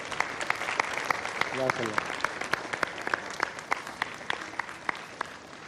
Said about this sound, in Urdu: بہت زیادہ تالیاں